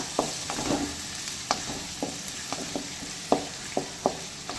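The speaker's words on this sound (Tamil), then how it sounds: "இப்போ இது கூடவே 1 கொத்து கருவேப்பிலை ஆட் பண்ணி நல்லா பொன்னிறமா வதக்கிக்கலாம்" Chopped onions sauté with a sprig of curry leaves in gingelly oil for Kerala-style chicken gravy, a steady hiss broken by a string of sharp spatula scrapes and taps against the pan, close and alone.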